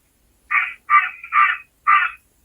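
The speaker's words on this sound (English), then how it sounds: "that's a crow. That's not even a magpie." Four harsh crow caws in an uneven rhythm, close and loud, with quiet gaps between calls and no voices.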